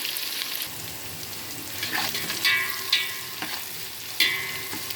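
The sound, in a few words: green chillies frying in a pan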